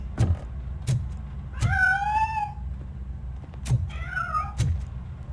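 A cat in the video game Robocop Rogue City meows twice in drawn-out, wavering cries, with soft thumps and footstep-like knocks around them and no speech.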